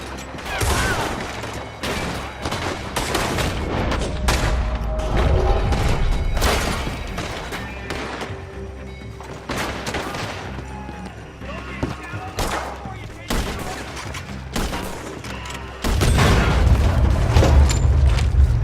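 Gunfire in a Red Dead Redemption 2 shootout, with repeated sharp shots and heavy booms in irregular bursts throughout, some explosive thuds near the end, and voices speaking between and over the firing.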